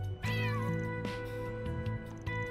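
Cat meowing in the video game Trails through Daybreak 2, set in Old Town: several drawn-out, pitch-bending meows close and clear over a steady low game music bed, with no talking.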